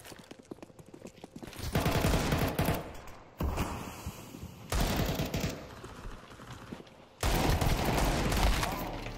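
AK rifle fire in a video game comes as dense, loud sustained bursts, several long volleys broken by short gaps, with no talking.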